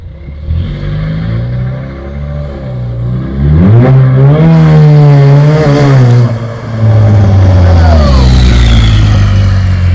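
A small old Cessna airplane's engine runs close by at high power, a loud steady roar with a clear droning tone that swells, dips briefly and then holds strong again.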